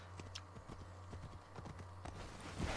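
Horse hooves clip-clop in Assassin's Creed Odyssey, a quick run of close, distinct hoofbeats over a low steady hum, ending with a brief louder scuffle.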